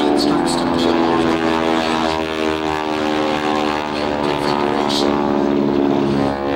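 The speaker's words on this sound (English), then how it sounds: "Top speed on the steerman biplanes of the Red Barons is" A Boeing-built Stearman propeller biplane from an aerobatic squadron flies at a warbird airshow. Its engine gives a loud, steady, droning roar with a rich harmonic hum that holds throughout.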